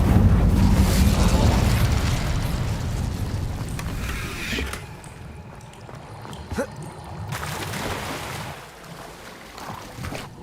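An Incendio fire spell in Hogwarts Legacy, a loud roaring, whooshing burst of flame that slowly fades into a lower rumble, with a few smaller pops and crackles afterward.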